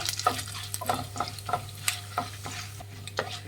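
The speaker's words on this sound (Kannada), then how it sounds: "ಕಡಲೆಬೇಳೆ ಒಂದು ಸ್ವಲ್ಪ ಗೋಲ್ಡನ್ ಬ್ರೌನ್ ಬರೋವರೆಗೂ ಫ್ರೈ ಮಾಡಬೇಕು" Chana dal frying in oil in a pan, a light sizzle under a steady low hum, punctuated by repeated sharp scraping and clinking strokes of a spoon stirring at a quick, uneven rhythm, close and fairly quiet.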